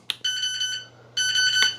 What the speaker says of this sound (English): Now, if I remember, this was the alarm.